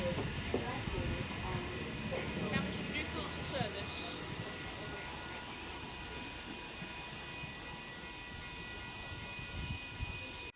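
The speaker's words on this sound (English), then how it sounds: "H22 departing for a Hamilton Newcastle service." An NSW Trainlink H22 electric train departing Koolewong station, a low rolling rumble and faint whine that stays steady as it pulls away, heard from the platform at moderate distance.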